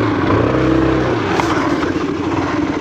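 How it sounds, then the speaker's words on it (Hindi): A nearby motorcycle engine runs rough on alcohol fuel, its low putter faltering and sputtering as if about to stall. "ये देखिए देखिए बंद हो जा रहा है बार बार, स्कूटर देते हैं बंद हो जाता है बार बार"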